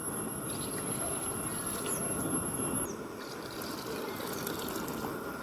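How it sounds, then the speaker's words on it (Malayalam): Water is poured into a fish curry gravy made with tamarind, giving a steady, soft trickling and splashing that runs throughout at a low level, with no voices heard. "ഇനി ആവശ്യത്തിന് വെള്ളം കൂടി ഒഴിച്ചു കൊടുക്കാം"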